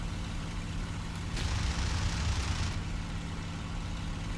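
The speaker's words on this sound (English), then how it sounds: "Engine's conking out." A P-38 fighter engine drones low and steady in the IL-2 Sturmovik flight game, with a rougher, louder burst of noise swelling through the middle before it settles back to the even hum.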